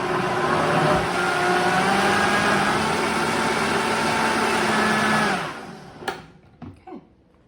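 A blender whirs loudly and steadily, mixing double fermented kefir with baobab, then stops abruptly, leaving a few faint clicks and knocks.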